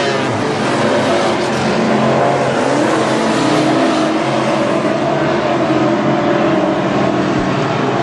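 Modified race cars roar around an oval track in a heat race, a dense, continuous wall of loud engine noise with shifting pitch as the pack runs its final laps, no gaps throughout.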